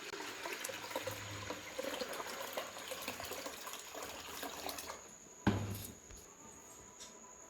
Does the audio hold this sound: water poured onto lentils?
yes